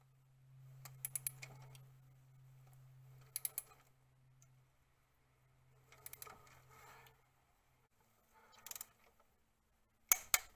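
Ratchet wrench tightening spark plugs on a Volkswagen Golf Mk4 engine, short bursts of rapid clicking separated by pauses, close and fairly quiet over a low steady hum.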